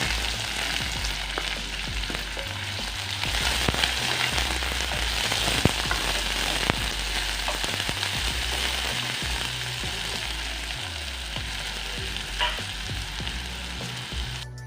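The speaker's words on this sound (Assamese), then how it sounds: "এতিয়া চাওক পিঁয়াজখিনি মোৰ ভাজা হৈ গ'ল" Chopped onion with cumin seeds frying in hot oil for a mustard-seed fish curry, a steady close crackling sizzle with scattered pops and occasional stirring scrapes throughout.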